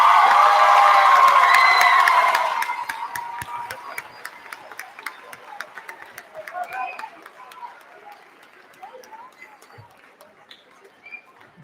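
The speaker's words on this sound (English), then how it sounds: "Let's give everybody a huge final round of applause." Audience applause and cheering at an 8th grade promotion ceremony, a loud burst of clapping and shouts that drops after a couple of seconds into scattered claps and distant voices.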